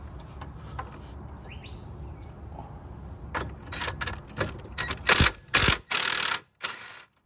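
A ratchet loosens bolts on a car's steering knuckle during control arm or CV axle removal, with quiet rustling at first and then several loud, close bursts of ratcheting clicks near the end.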